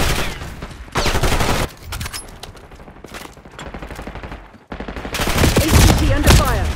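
Heavy gunfire from Call of Duty: Black Ops 6 multiplayer on the Babylon map, with dense volleys of rapid shots near and loud, a quieter stretch in the middle, then another intense burst of firing.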